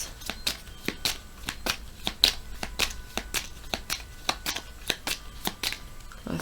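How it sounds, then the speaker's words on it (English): Lenormand cards are shuffled up close in a steady run of quick papery riffles and taps during a tarot reading, with no talking over them. "I will pull out some Lenormand cards."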